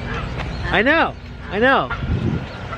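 Geese in a park give two loud, close honks about a second apart, each a rising-then-falling nasal call, with a person speaking briefly around them.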